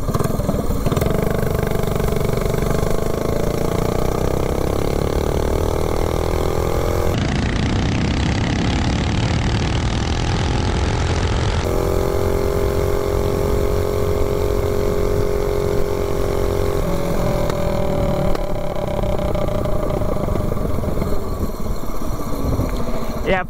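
A GTS mini bike's small engine runs loud and steady with a freshly fitted carburetor, revving up and settling back in smooth, continuous buzzing pitch sweeps without a break.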